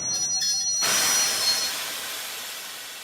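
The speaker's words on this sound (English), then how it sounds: "After 3 days, the train stops." A train in steam-era travel comes to a halt: a sudden burst of broad hissing and rushing noise after a quiet moment, steady and close, slowly easing off with a faint high wheel squeal.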